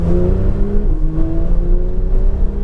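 A car on a track-day drill accelerates hard toward a cone, its engine note climbing steadily in close, loud, continuous revving with a brief dip as it shifts.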